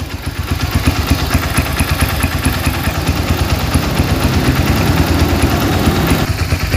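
A Honda Tiger motorcycle engine idles right after a carburetor adjustment, giving a loud, close, steady, slightly clattery rumble that stays even throughout with no voices.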